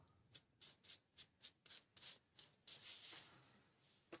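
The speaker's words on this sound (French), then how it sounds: "vous prenez une lime à ongles, quoi, pour venir un peu raboter le tour" A nail file rasps around the edge of dried modelling paste in quick repeated strokes, each a short, scratchy rub. The strokes are close and faint, then blur into a steadier rubbing near the end.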